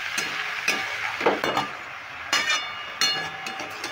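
Pea greens and spring onion stalks being stirred in a hot pan, giving a continuous sizzle broken by a few louder scraping strokes of the spatula close up.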